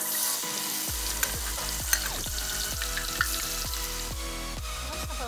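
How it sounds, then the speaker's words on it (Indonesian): Ground kluwek spice paste sautés in a pan, giving a continuous sizzle overlaid with a regular series of stirring scrapes and knocks of a utensil against the pan, close by and with no talk. "Saatnya menumis fams"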